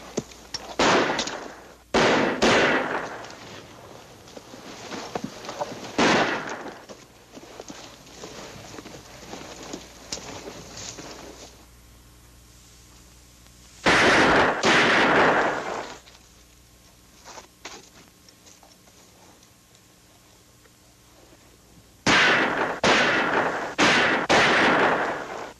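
Gunfire rings out in a gunfight from a 1953 western, Jack Slade, with separate bursts of sharp, loud shots and echoing reports between long quiet gaps.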